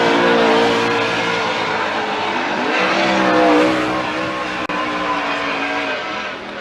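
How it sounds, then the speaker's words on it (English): Ford Mustang drift car at a Formula Drift round in Atlanta, its engine roaring steadily and loud throughout with shifting pitch as it slides, crowd and track noise mixed beneath, no talking. "Just over-driving his Ford Mustang is JTP, man."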